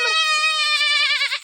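A person imitates a goat, producing a single long, wavering, nasal bleat that trembles toward the end, loud and close.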